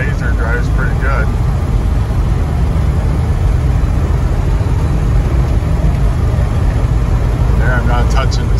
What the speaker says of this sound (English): Actually, for an old Blazer, it drives pretty good.